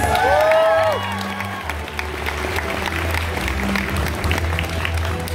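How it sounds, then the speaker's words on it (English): Audience applause and some cheering in a crowded hall at a cosplay grand prix, a steady wash of clapping following a brief squeal of feedback, with an announcer's voice and low music mixed in. "Give her a huge round of applause."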